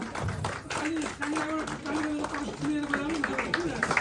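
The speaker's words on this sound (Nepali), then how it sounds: "कृपया ताली बजाइदिनु होला।" Audience clapping at a community gathering, scattered steady applause running beneath a voice speaking over a microphone.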